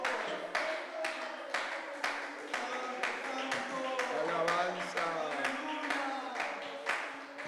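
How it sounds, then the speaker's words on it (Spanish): A church congregation claps in a steady, even beat, roughly two claps per second, sharp and close, over sustained voices or music. "denle aplausos"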